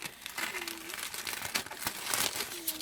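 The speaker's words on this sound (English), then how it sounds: "These scissors don't open very wide, so don't be afraid to cut it." Scissors snip and crinkle through wrapping paper in a series of irregular crisp cuts and rustles, close and fairly loud, with a person talking over parts of it.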